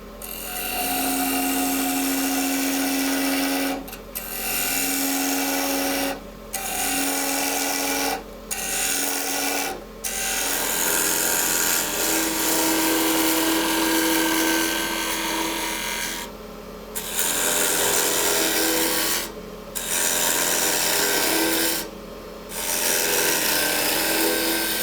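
A hollow wood vessel spins in a lathe chuck while a tool cuts its side, producing a loud continuous scraping, rasping roar that stops briefly at several points before resuming.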